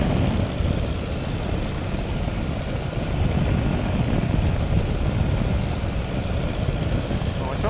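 A de Havilland Tiger Moth biplane drones steadily in flight, its engine and airflow a loud, continuous broadband roar filling the cabin from start to end, with a voice on the radio partly under it.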